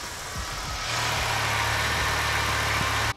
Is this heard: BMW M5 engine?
yes